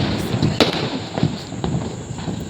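Firecrackers burst in a quick series of sharp cracks close by, mixed with bangs from further off, and voices can be heard between the blasts.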